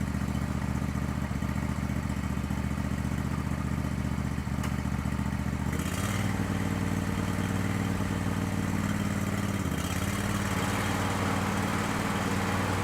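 A 2004 Troy-Bilt 809H garden tractor riding mower runs steadily in low gear, its engine a continuous near, loud drone with a brief dip in pitch partway through and another near the end.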